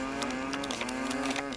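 One drawn-out game cow moo, loud and wavering, fills the short stretch by itself, from a Nancy Drew: The Captive Curse minigame about moving cows around a board.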